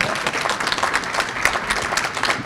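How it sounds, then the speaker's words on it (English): Applause from the audience at a family investment presentation ceremony, loud, close and continuous clapping from many hands, with a faint murmur of the crowd beneath it. "I think that deserves some applause."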